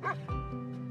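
Sled dogs in an Alaska survival video game give a brief bow-wow bark and yip while being fed, close and fairly loud, with a short whimpering tail after.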